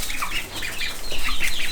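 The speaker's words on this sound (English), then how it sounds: "Oh, there's also a black mottled hen." A black mottled hen clucks in short bursts close by, mixed with rustling and some wing flapping among farm birds.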